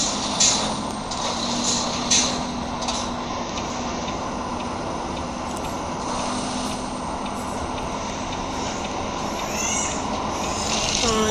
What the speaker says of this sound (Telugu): ఓ అమ్మో, ట్రక్ చూడండి ఎలా వెళ్తుందా.